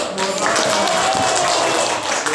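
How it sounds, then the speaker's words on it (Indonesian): An audience at a talk on Islamic banking claps together in a dense, sustained burst of applause, with voices mixed in. "Tepuk tangan dulu."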